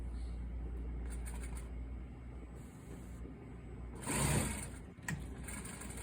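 Sewing machine stitching a half-inch seam for a French seam, a steady quiet mechanical whir running throughout, with a brief louder rustle of fabric handling partway through.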